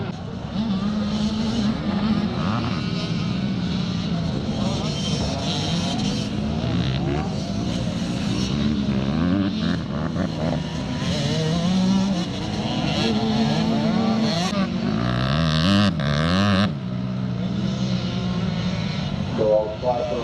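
Motorcycles racing a lap at a charity scramble in Northern Ireland, engines revving and whining continuously as they rise and fall in pitch, with a commentator talking over them throughout.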